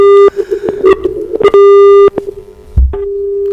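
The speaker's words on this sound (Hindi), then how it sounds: "किसी कारण से किसान भाई का फोन नहीं लग पा रहा" A loud, steady telephone busy tone from a farmer's call that fails to connect on a radio phone-in broadcast, interrupted by crackling line noise and clicks before resuming alone.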